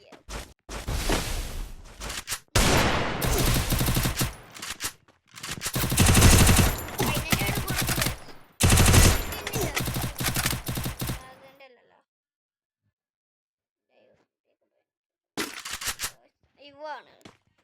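Rapid volleys of automatic gunfire from a shooting video game crackle in loud, repeated bursts for several seconds, break off into silence, then return briefly as a few scattered shots near the end.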